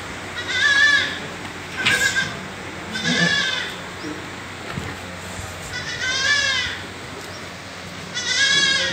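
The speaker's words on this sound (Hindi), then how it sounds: "ये वो बकरी आ गई है जनाब, ये वाली नागरी बकरी है जी" A Nagri goat on a farm bleats about five times in wavering, nasal calls separated by short pauses, with quiet farmyard background between them.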